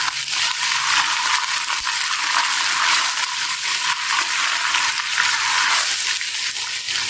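Ginger garlic paste fries in a pot for mutton pulao, giving a steady, close, hissing sizzle that carries on evenly for several seconds with no talking.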